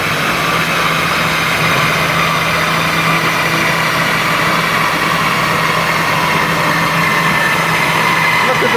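A Citroen 2CV engine runs steadily at high revs on a dyno, giving a constant buzzing drone from close range with no clear change in pitch.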